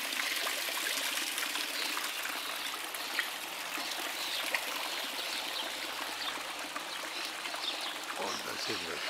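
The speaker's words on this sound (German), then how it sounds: "Heute hast du das Wasser einfach reingelassen." Water streams steadily into a swirling vortex basin, a continuous broad rushing and trickling wash that stays even and fairly close throughout, with faint voices in the background.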